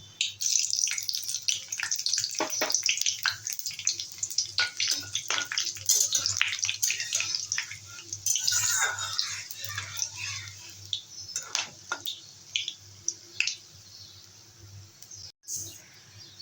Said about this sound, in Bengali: আজকে কিন্তু বেশি করে তেল মশলা দিচ্ছি দেব তেজপাতা একটা শুকনো লঙ্কা দারচিনি লং এলাচ আর সামান্য একটু সাদা গোটা জিরে